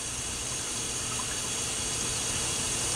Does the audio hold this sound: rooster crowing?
no